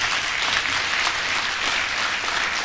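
Resounding applause from the audience at a graduation ceremony honoring the Senior Executive Course 45 members: dense, even clapping that holds at a steady level throughout, with no voices standing out.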